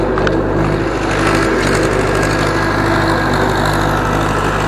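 An Ursus tractor engine runs steadily and loudly while driving across a field during liming, a continuous close rumble with no pauses.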